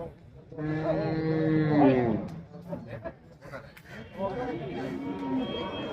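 At the Pollachi cattle market, with bulls, cows and buffalo, a loud, drawn-out, low moo sounds up close, followed by further lowing mixed with people talking nearby.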